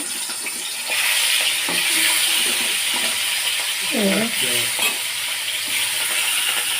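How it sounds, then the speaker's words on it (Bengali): Hilsa fish fries in hot oil in a wok, giving a loud, dense, continuous sizzle throughout, with a brief voice heard faintly underneath. "মাছগুলো সব ভেজে নেব"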